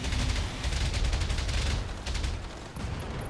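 A 100-ton assault mech lets loose a heavy volley of weapon fire in a video game, a dense, loud barrage of rapid shots and booms that eases briefly before resuming, with no talk.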